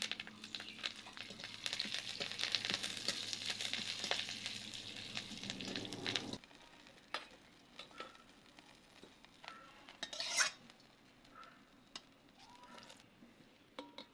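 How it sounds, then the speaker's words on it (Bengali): Fenugreek, black mustard seeds and curry leaves are added to hot oil, giving a hissing sizzle with crackles for about six seconds, then a quieter stretch of scattered pops and clinks. "গরম হয়ে গেছে, সামান্য একটু মেথি দিয়ে দিচ্ছি, একটু কালো সর্ষে আর দিয়ে দিচ্ছি কয়েকটা কারি পাতা।"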